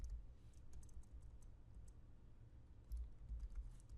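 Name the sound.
typing text on a computer keyboard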